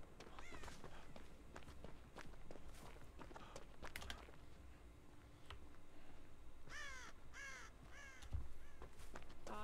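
Crows caw in the video game Dead by Daylight, a few scattered harsh calls and then a cluster of caws near the end over running footsteps and ambient game noise.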